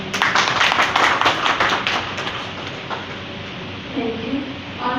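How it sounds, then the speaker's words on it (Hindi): An audience at a Brahma Kumaris talk at a municipal council in Nagaur claps for itself: a dense burst of applause, loud at first, then thinning and fading over several seconds, with no talk over it. "एक बार आप सब अपने लिए ताली बजाएं।"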